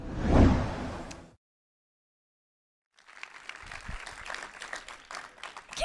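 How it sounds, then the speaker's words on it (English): Audience applause at an awards ceremony, a brief burst of clapping that cuts to silence, then a longer spell of scattered clapping from a crowd in a hall. "Can we get another round of applause?"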